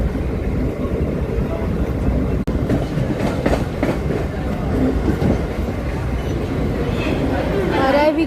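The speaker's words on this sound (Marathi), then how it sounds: "इकडून आपली ट्रेन 2 मिनिट्स डिले डिपार्ट झालेली आहे." A Mumbai slow local train runs on the CSMT to Vashi line, with a steady loud rumble and clatter of carriages on the rails throughout and passengers talking underneath.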